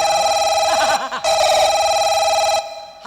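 A mobile phone rings with a repeating electronic melody, bright and steady, breaking off briefly before resuming and then stopping near the end, with faint voices in the background.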